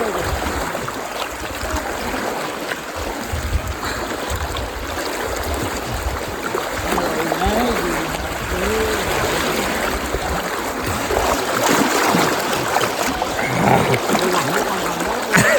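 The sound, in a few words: fast-flowing water rushing over rocks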